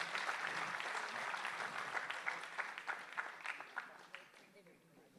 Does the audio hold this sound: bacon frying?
no